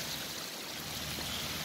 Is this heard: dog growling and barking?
no